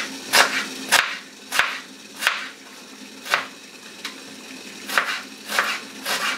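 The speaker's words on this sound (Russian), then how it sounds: "Одну луковицу, которая помельче у нас, я нарезаю мелким кубиком." A knife chops an onion into fine dice on a board, giving sharp, evenly spaced taps about once every half second to second, close and clear with no talk.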